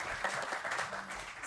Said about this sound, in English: If we could give them all a round of applause for being here today.